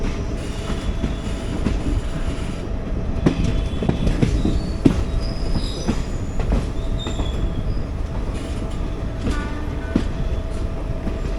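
A train pulls into Lottegollahalli station with a loud, continuous rumble, clattering wheels and several high metallic squeals from the rails. No one speaks.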